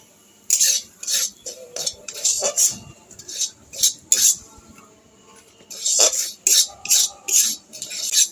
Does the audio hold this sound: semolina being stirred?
yes